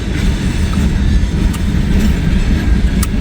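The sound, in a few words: train passing the Hamilton depot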